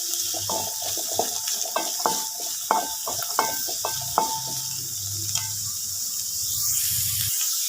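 Curry leaves dropped into a hot pan of oil with onions and stirred, giving a steady sizzle and crackle with repeated scraping and clicking of the spoon against the pan.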